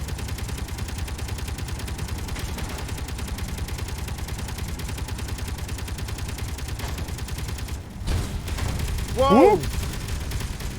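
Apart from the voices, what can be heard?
gunfire from a video game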